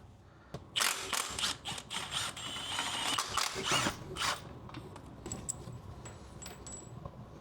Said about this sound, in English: now I'm gonna take off the 2 bolts right here for the transmission